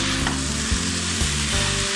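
Chicken chowmein frying in a pan with vegetables and chicken, street-food style, gives a loud, steady sizzle broken by rhythmic stirring scrapes every half second, with no talking.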